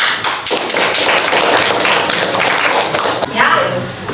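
A classroom of students applauding, dense steady clapping from many hands that fills the room and then tapers off, with some voices mixed in.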